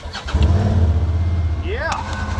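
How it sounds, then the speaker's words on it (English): An off-road rig's engine cranks and catches after a flip, settling into a steady low idle, with a rising whine or chirp near the end and people talking over it. "Let me try to start it now."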